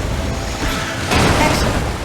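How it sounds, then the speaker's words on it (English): A shockwave blast in the video game Skylanders Giants, a deep booming rumble that swells partway through over dense, continuous game noise, loud and full. "We just caused a major shockwave"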